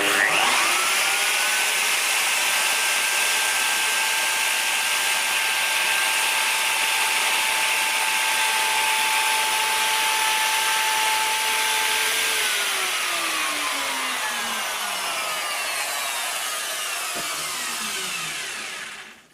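A plunge router cutting into wood screams loudly and steadily for about twelve seconds, then its pitch sags as the motor winds down, ending with a falling whine and a final clunk.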